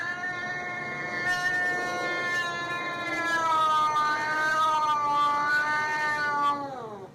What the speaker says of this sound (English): I've never heard them growl like that at each other.